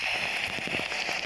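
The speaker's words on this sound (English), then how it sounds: "It's raining!" Steady rain patters down on surfaces outdoors, a continuous close hiss with scattered drop taps and no speech.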